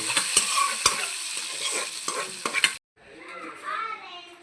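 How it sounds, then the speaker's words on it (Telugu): Curry leaves crackle in hot oil while tempering for dal, giving a close, busy sizzle with sharp pops and stirring scrapes, then a short silence and a softer, settling fry. "కొంచెం కరివేపాకు వేసి అట్లా వేసి అట్లా పప్పులో వేసుకోవాలి."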